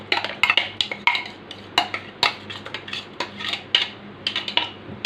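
A spoon scrapes and clinks against a bowl while red pepper harissa spices are mixed together, giving repeated sharp metallic taps and rasps in an uneven rhythm, close and fairly loud, with no talking.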